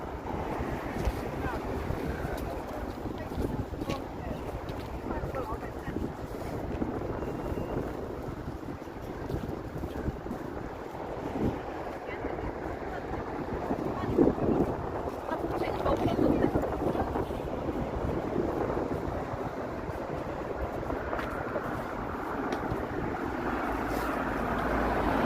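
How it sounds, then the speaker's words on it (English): Cold wind buffets the microphone on a Toronto street on a frigid night, a steady low rumbling roar with gusty swells, with a voice speaking over it. "There's a wind that makes it feel like -9 or -10 Celsius."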